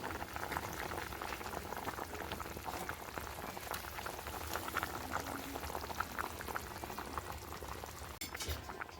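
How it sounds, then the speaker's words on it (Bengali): Fish curry (tarkari) bubbling steadily in a pot after water is poured in, a continuous close hiss and burble of boiling liquid with no pauses, ending with a brief sharp knock near the close. "তরকারিটায় জল দেওয়ার পরে কিছুক্ষণ ফুটিয়ে নিয়েছি"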